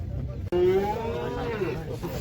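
A cow gives one long, loud moo close by at a livestock market in Uzynagash near Almaty, with market bustle and a low murmur underneath.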